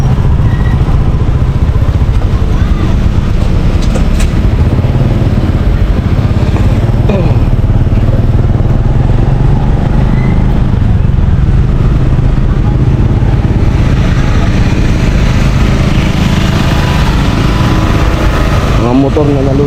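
Flood-damaged motorcycles, swamped during Typhoon Kristine and now under repair, run with a loud, steady engine drone and clatter throughout, with people talking over the noise.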